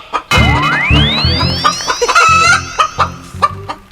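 A country chicken clucks and squawks repeatedly, close and loud, with a rising screechy call followed by a string of short, choppy clucks.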